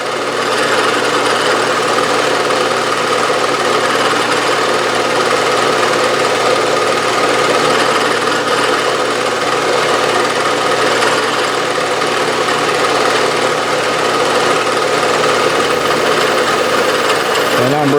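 A sharp cutter on a Bridgeport milling machine cross-feeding through metal on the y-axis, giving a steady, loud, continuous machining drone with shop noise and no break for the whole stretch.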